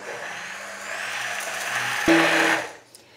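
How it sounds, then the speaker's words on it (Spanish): A hand blender purées food loudly and steadily with a broad, gritty buzz, then rises briefly in pitch before cutting off and winding down. "y ahora con una turmis o en una licuadora lo vamos a triturar todo bien"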